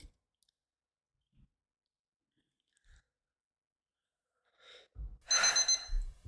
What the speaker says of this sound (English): The alarm sounded.